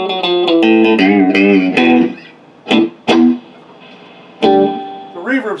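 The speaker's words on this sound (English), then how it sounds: "The reverb's kicking in and out." Guitar amplifier with reverb switched on during a fault check, the reverb cutting in and out so notes bloom with wash then drop dry; a run of plucked guitar notes is followed by sparse isolated strums and a final chord.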